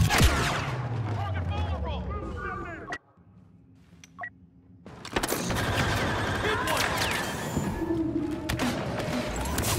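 Turret weapon fire in Star Wars Battlefront II during a strike on Starkiller Base: dense, loud bursts of blasts and explosions fill the scene, cut by a brief quieter gap with a few beeps before the heavy barrage resumes.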